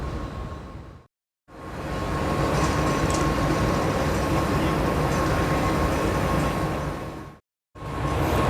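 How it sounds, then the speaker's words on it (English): Steady broadband rumble of a train departing for Battambang, Cambodia, rolling past at close range, sustained for several seconds between brief cuts, with no voices. "There goes the train for Battambang."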